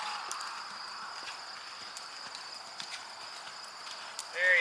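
A horse cantering in a jumping session, faint regular hoofbeats partly buried under a steady broadband outdoor hiss, distant and muffled.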